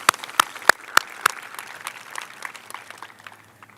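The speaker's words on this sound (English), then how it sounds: "So let's give them a round of applause too." Audience applause at an outdoor ballpark ceremony, Aviator Ballpark, opening with a few sharp nearby claps, then settling into a softer, scattered round of clapping from a crowd that fades over a few seconds.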